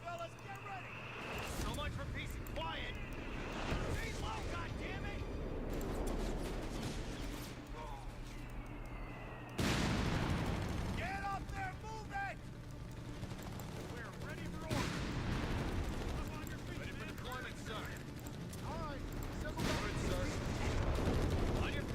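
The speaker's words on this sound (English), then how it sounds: "Oh, the artillery." Artillery and massed gunfire rumble through a Total War: Warhammer 3 battle, with dense continuous booms and crackling volleys, heavy impacts around 10 and 15 seconds, and a voice talking over the din.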